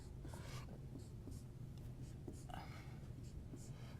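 Hand-writing of numbers and braces for a function's range, close scratchy pen strokes in short bursts over a low steady room hum, with faint breathy voice sounds underneath.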